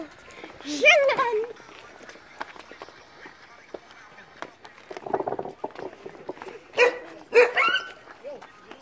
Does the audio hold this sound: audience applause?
no